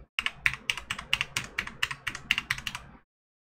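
Fast typing on a computer keyboard while entering an IP address, about fifteen crisp, close key clicks in a quick, uneven rhythm, ending abruptly and followed by silence.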